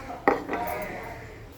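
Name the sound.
stirring eggplant and hilsa fish curry in a pot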